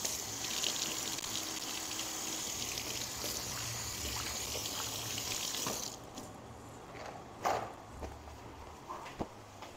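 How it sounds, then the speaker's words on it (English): Tap water runs steadily into a kitchen sink during hand washing, a soft continuous gush for about six seconds before it stops, leaving a few faint clinks and drips in a quiet room. "let me wash my hands real quick"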